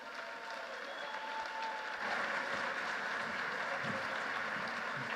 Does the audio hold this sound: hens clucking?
no